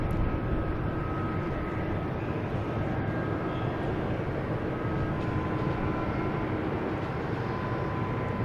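An American Airlines jet arriving from Cincinnati at Boston Logan gives off a steady, broad roar that stays even throughout. No voices are heard.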